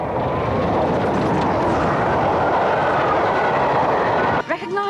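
A passenger train rumbling past at close range, a steady loud roar of wheels and carriages lasting several seconds before a brief break and a burst of voice at the end.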